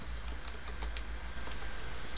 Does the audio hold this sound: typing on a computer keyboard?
yes